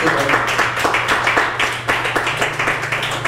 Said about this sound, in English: everyone clap your hands and thank the Lord